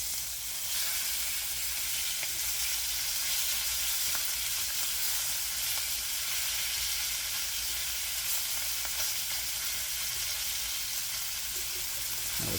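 Freshly flipped steaks sizzle steadily in a hot pan, a continuous close, even crackle and hiss with no talk over it.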